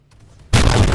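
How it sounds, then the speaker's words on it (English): After a near-silent lead-in, a naval video game ship fires a cannon broadside as one sudden loud boom that rolls into a dense, sustained roar. "Fire broadside."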